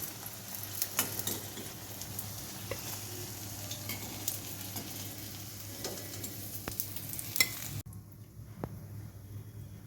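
Pieces of ash gourd fry in oil, making a steady crackling sizzle with scattered pops and stirring clicks that drops to near quiet toward the end; no speech.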